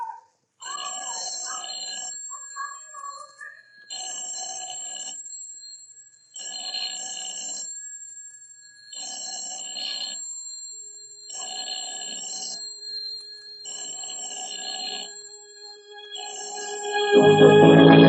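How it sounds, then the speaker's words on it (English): An old telephone bell rings in an empty house, repeated bursts of about a second each separated by short pauses, clear and steady for most of the stretch, with brief talk near the start and a louder noise cutting in at the end. "The telephone ringing in an empty house."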